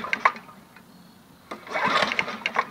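A Generac 8838-0 small engine catches on the first pull after being off for an hour, giving a short rattle, a brief pause, then a quick build into a buzzing mechanical run, all fairly faint.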